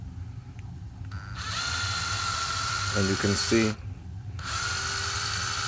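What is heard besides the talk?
drilling into resin model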